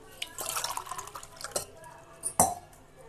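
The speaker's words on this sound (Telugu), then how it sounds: "తర్వాత కొన్ని నీళ్లు తీసుకుంటున్నాను." Water trickles and drips into a vessel nearby in short, uneven splashes, ending with a sharper plop.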